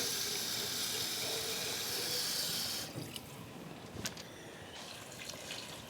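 Water runs from a tap in a steady hissing stream into a pot of Great Northern beans for about three seconds, then stops, leaving faint drips and small clinks nearby.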